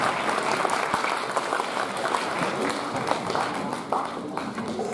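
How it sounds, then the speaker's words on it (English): A steady round of applause from an audience at a school science day event, closely miked clapping with occasional sharper individual claps, fading slightly near the end. "give a big round of applause"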